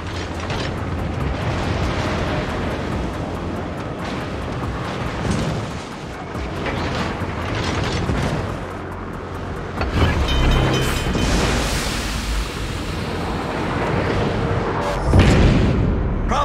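Heavy booms and rumbling blasts from a burning enemy cruiser in a naval combat video game, a continuous loud barrage with sharper bursts midway and near the end, over low mechanical drone.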